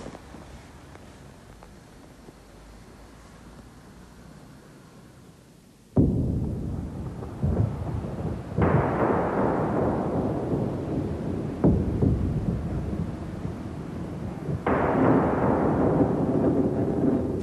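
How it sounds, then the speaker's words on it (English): Deep thunder cracks and rolls during a storm, several loud booms breaking in one after another and each rumbling away over a steady background of wind and rain. "Thunder cracking, storm clouds gathering."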